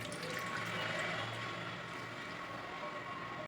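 Water drains steadily from a tied cloth bundle of rice flour dough, a continuous close trickling wash that runs with no break until it cuts off abruptly at the end.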